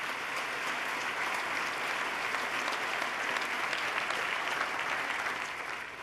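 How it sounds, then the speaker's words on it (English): Audience at a State of the State address gives a sustained round of applause, a steady wash of clapping from a large crowd that continues evenly throughout, tapering slightly at the close. "let's give them a round of applause for their turnaround"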